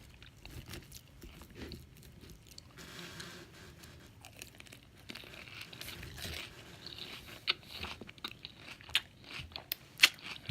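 Close, crisp crunching and moist chewing of chicken salad, irregular bites and crinkles that grow louder toward the end, with no talk over them.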